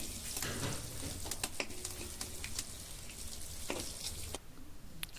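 Pork pieces frying in their own rendered fat, a dense steady crackle and sizzle with scattered sharp pops, close and fairly quiet, no talking.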